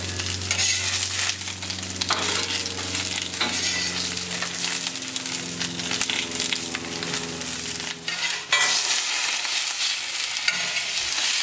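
Courgettes searing on a hot plancha, a loud continuous sizzle with scraping and tapping from a spatula, dropping away briefly near the end, no speech.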